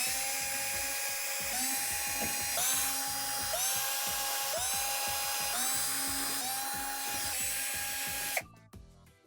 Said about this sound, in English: remove all the Torx screws around the perimeter of the back panel